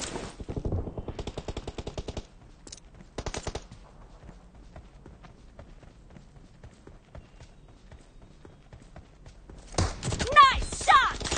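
Automatic gunfire in PUBG Mobile, loud rapid bursts in the first few seconds followed by scattered quieter shots and a louder clash near the end, with a player talking briefly.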